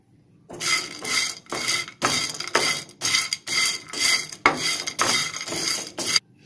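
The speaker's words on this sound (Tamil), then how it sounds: "இப்போ இதையும் 3 நிமிஷம் நல்லா வறுத்து எடுத்துடலாம்." Biryani masala spices dry roasting in a pan give a run of rhythmic scraping and rattling strokes, about ten in a row, close and even, with no voices.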